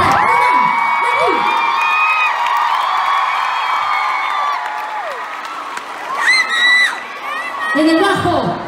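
A crowd applauds steadily with whoops and cheers rising over the clapping, loud and continuous throughout, with a few shouted voices near the end.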